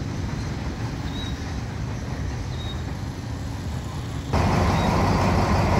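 Freight train 721 rolls into Surat Thani station with a continuous loud rumble of wheels and wagons that swells abruptly louder near the end.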